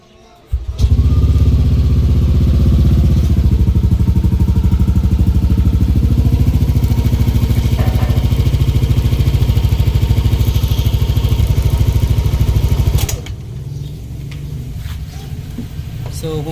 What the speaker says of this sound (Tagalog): So kung mapapansin nyo naman, napaka-smooth ng makina, napakatahimik.